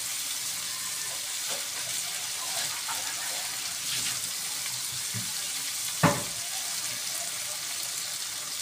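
Water poured into a pan of pinakbet with onions and cooked tomatoes, a steady sizzle and bubbling with a sharp clatter near the end, no talking.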